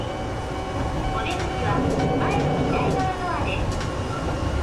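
A train in a Japanese rail simulator game runs on a journey toward Kyoto, a steady, dense rolling rumble with faint high tones, while a voice talks over it.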